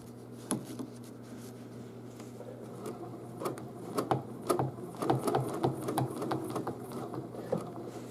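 A sewing machine runs in bursts while stitching short six-inch strips of sashing on a Christmas quilt, its rapid needle chatter close and moderately quiet, rising and falling without talk.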